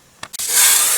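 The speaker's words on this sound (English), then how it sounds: "I've used a little bit of butter flavored no sticks cooking spray." A can of butter-flavored non-stick cooking spray, two short clicks and spurts before a loud, sustained hiss as it coats a pan, close and alone.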